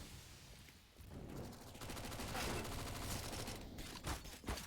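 Dense rapid gunfire from a CS:GO match, including an AK-47, rattles in quick bursts through the whole stretch, loud and continuous.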